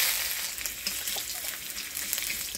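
Dried chili, bay leaf, crushed ginger and five-spice tempering in hot oil give a steady, close hiss and crackle with a few soft pops, heard alone.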